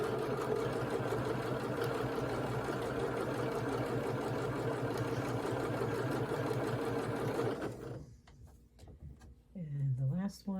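A sewing machine stitches scrappy sampler quilt block pieces with a steady, even motor drone for several seconds, then stops and gives way to a few quiet handling noises and a voice.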